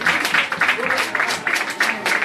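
Crowd clapping in rhythm at a gathering at President Ellen Johnson Sirleaf's farm in Bomi, loud and steady pulses about three times a second with voices mixed in underneath.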